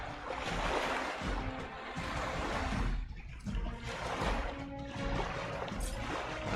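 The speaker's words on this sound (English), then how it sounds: "we're over the water and it's making that noise" Rushing, splashing water ambience from the video game Midnight Suns, a loud continuous wash with surging swells and a brief dip midway, no talking.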